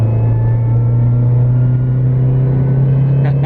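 A supercharged R53 Mini Cooper S pulls hard from inside the cabin, a loud, steady droning engine note with a strong low hum holding throughout the short stretch.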